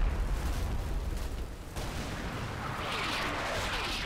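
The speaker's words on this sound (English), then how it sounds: "Our MMGs here, our general-purpose machine guns, are putting a lot of fire on the enemy, though." M240 general-purpose machine guns firing in Combat Mission: Black Sea, a dense, continuous rattle of distant gunfire and rumbling booms throughout.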